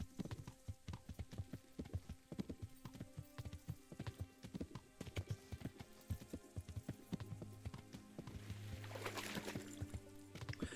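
Horse hooves clip-clop in Kingdom Come: Deliverance, a rapid, steady trot of close, crisp hoofbeats that runs throughout, with a low rumble and rising wash of ambience near the end.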